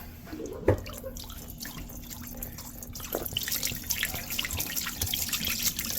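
Dos Equis amber beer is poured out, a faint liquid trickle and dripping with a small splash near the start, fairly quiet against background room noise.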